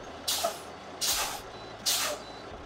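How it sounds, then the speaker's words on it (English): A log truck's air brakes are pumped three times during an inspection, each press a sharp, loud burst of hissing air released in an even rhythm over a low idling rumble. "Go ahead and pump your brakes for me, sir."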